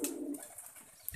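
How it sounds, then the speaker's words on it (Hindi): A pigeon coos briefly and softly nearby, a short throaty call with faint chirps at the edges, no speech. "सारे कबूतर बहुत ही खुश दिखाई दे रहे हैं भाइयों, देखिए।"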